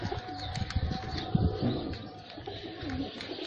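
Pigeons coo in soft, repeated low warbling calls close by, with a few faint chirps and rustles in the background.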